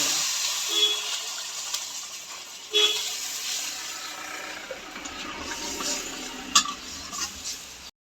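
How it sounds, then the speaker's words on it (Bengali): Spices for a fish curry sputter and hiss in a pan after water is poured in, a moderate, uneven sizzle with a few scraping stirs and small pops. "পরিমাণ মতো জল দেবো।"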